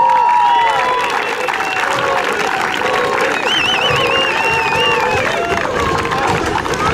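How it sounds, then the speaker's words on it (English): A university crowd at a scoreboard dedication ceremony claps loudly and steadily, with cheers, whistles and shouted voices mixed in throughout. "Give yourself a round of applause."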